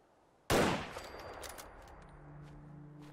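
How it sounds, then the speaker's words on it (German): A single sniper rifle shot in Fallout 4 cracks loudly out of near silence, then rings off in a long, fading tail with faint scattered clicks and a low hum after it. "Einfach wegsnipern, die Jungs. Scheiße, Munition verschwendet."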